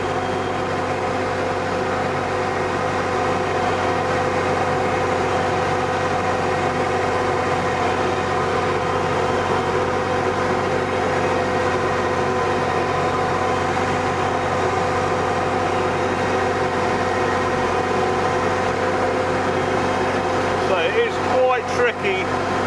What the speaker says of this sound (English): Tricky operating the drone and the hedge cutter at the same time.